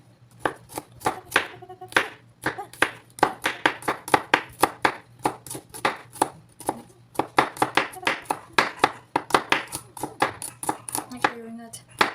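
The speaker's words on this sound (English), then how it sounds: "Okay, then mince it." Knife mincing food on a cutting board for a diabetic-friendly meal, a rapid, steady run of sharp close chopping taps repeating throughout.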